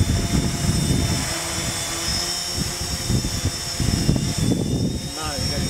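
An Xaircraft quadcopter drone hovering nearby before landing itself, a steady high-pitched buzzing whine, while people talk over it close by.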